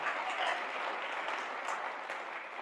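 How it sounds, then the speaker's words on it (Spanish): Congregation at an evangelical church service giving a strong round of applause, steady dense clapping sustained throughout, moderately distant and even, with no voices over it. "Denle ese fuerte aplauso al Señor"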